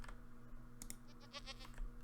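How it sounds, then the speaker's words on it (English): A goat in Minecraft bleats in a few short wavering calls over a steady low game hum, with soft clicking from a keyboard nearby. "yeah, here's our goat."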